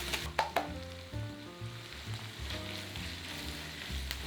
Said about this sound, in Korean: 삼겹살의 선홍빛이 사라지면 손질해둔 야채와 후추, 다진 마늘 1스푼, 굴소스 2스푼을 넣고 볶습니다